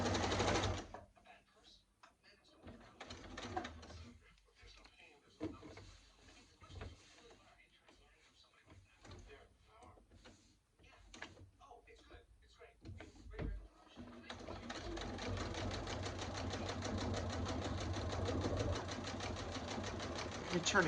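A sewing machine chain-pieces top stitching in several short bursts of rapid needle clatter broken by pauses and small handling knocks, then runs in a longer steady whir near the end.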